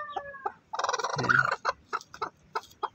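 A pure native hen sitting on a clutch of eggs gives repeated close, loud clucks and throaty churring, in broken bursts of varying length with no talking.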